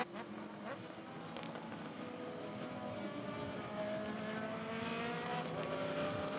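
Race cars circulate behind the safety car at Winton Motor Raceway in the 2020 Australian Motor Racing Series, Round 1. Their engines drone steadily and climb gradually in pitch and loudness.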